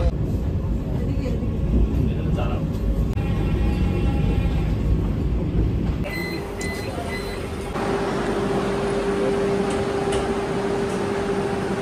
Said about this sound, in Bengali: আমাদের ট্রেন এসে ঢুকেছে